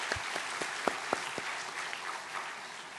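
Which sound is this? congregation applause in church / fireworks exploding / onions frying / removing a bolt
congregation applause in church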